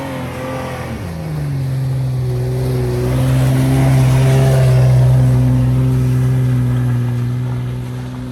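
An AEV ZR2 Bison off-road truck on 37-inch tires climbs a hill, its engine droning steadily and swelling louder as it revs and nears, with no talking.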